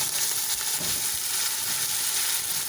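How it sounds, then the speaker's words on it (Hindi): Rice fries with golden garlic in a pan, a steady close hiss and sizzle with faint stirring scrapes throughout. "और अच्छी तरह इनको भून लेंगे।"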